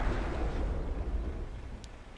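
A tank shell penetrating armor in World of Tanks, a loud low rumbling boom that starts hard and slowly decays over about two seconds, with a faint brief ping near the end.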